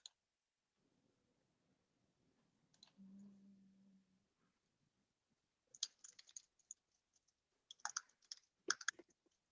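Fingers tap on a computer keyboard in a few scattered bursts of sharp, close clicks amid near silence, with a short low hum partway through.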